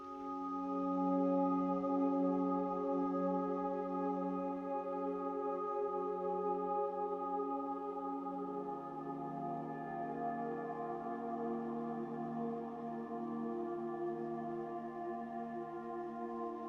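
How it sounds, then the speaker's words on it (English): A simple pad chord progression from Analog Lab plays as long, smooth, sustained synth chords that change slowly, steady and moderately loud with a warm drone and no voices. "Just nice, long, simple chords that help set the mood."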